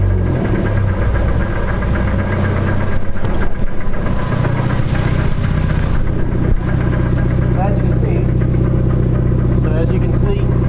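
A drift car's engine runs steadily with a throbbing, knocking idle while the drive shaft spins and the rear wheels stay still, loud and continuous throughout.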